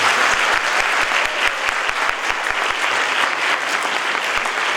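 Loud, dense applause from a college event audience in Bikaner greeting a youth icon, sustained evenly for several seconds by many hands clapping together, with no voices over it.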